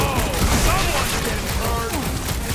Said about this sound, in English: We shoot our way out.